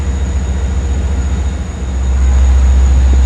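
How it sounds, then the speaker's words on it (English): An LIRR train engine roars at Jamaica station, a loud, steady low rumble that swells a little louder in the second half, with no voices over it. "You can hear his engine roaring."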